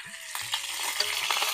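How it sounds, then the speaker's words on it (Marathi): Hot oil sizzling in a pan for a cumin and mustard seed tempering while cooking a Konkani-style black-eyed pea usal, a soft steady sizzle with light stirring taps, close and fairly quiet. "वाटणात मी जिरं घातलेलं नाहीये त्यामुळे आपण जिरं मोहरीची फोडणी घालूया"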